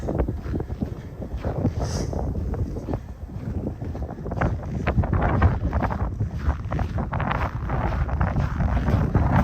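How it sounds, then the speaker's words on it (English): Cold winter wind at minus 30 wind chill buffeting a microphone during a Christmas Eve walk in Regina, a continuous loud rumbling roar that gusts and swells steadily with no talk. "There's your minus 30 wind chill."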